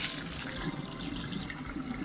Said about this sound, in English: pour it down the sink